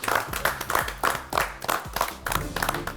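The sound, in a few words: applause for cooking contestants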